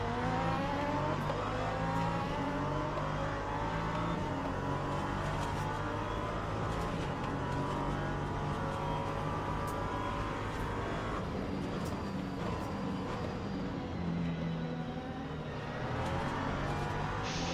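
An LMP2 prototype race car in a racing game at Sebring roars past with a loud, sustained engine whine that swells and shifts pitch as it goes by, close and dominant throughout.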